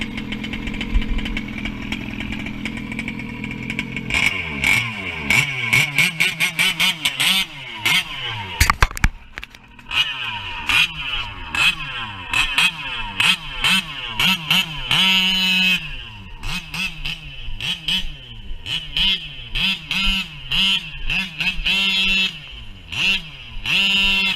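Nitro-powered 1/5 scale RC race car engine, a buzzy two-stroke note that idles unevenly, blips and revs up in sharp bursts, cuts out briefly, then settles back into a loud, close, rattling idle.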